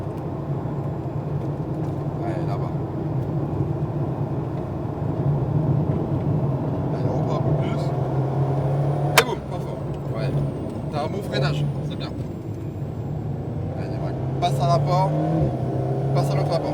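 An Alpine A110R on a track at Lohéac, the engine droning steadily close by and rising as it accelerates, beneath an instructor's continuous coaching speech.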